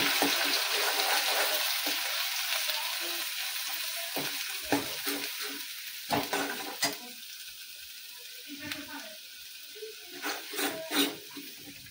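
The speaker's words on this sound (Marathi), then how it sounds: "तर मसाला छान व्यवस्थित भाजला आहे" Coconut and onion masala fries in oil with a continuous loud sizzle, broken by repeated scraping stirs and spoon knocks against the pan.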